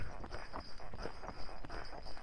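A horse walks along a park trail, its hooves making a soft, steady clip-clop rhythm that stays faint under a constant hiss of wind and background noise.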